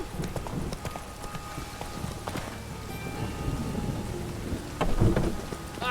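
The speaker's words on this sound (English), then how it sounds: "Being mad running around in this rain." Steady rain in The Witcher 3, a continuous wash of falling drops with scattered hoof-like clops and a low rumble, fairly quiet throughout.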